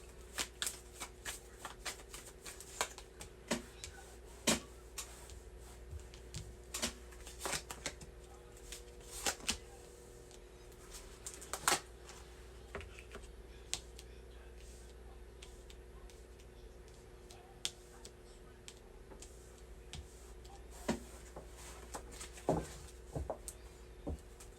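Tarot cards being shuffled and drawn at close range, with soft repeated riffling, flicks and taps scattered throughout at low volume, no talking.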